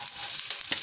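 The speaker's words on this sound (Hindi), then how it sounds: "फिर हमने ये बंद गोभी हमने इसमें डाल दी। इसको भी इसी तरह से तेज़ आंच पे जल्दी जल्दी" Shredded cabbage is stir-fried quickly in hot oil in a kadai over high heat, a steady bright sizzle with a few sharper crackles and stirring swishes in a brief burst.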